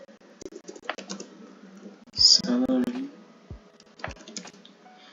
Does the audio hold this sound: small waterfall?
no